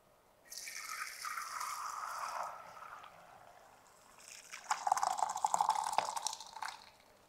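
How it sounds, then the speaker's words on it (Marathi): Cooking water poured off boiled dal in a home kitchen, first a steady trickling stream, then after a short pause a louder, dripping splashy pour into a vessel. "सगळ्यात पहिल्यांदा आपल्याला शिजवलेल्या डाळीतलं पाणी वेगळं काढून घ्यायचंय"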